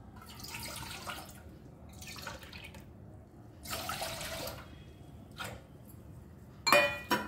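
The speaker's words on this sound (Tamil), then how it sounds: "2 டம்ளர் தண்ணி ஊற்றணும்" Water poured from a tumbler into a pot while making rice flour at home, a few separate bursts of splashing and trickling with quiet pauses between, ending in a brighter clink and splash.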